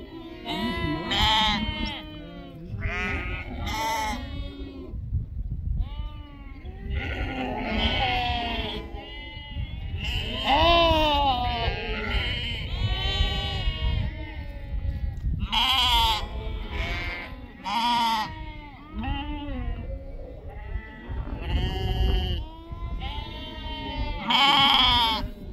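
A flock of sheep bleats repeatedly, many overlapping calls near and far, some loud and close, continuing throughout with little pause.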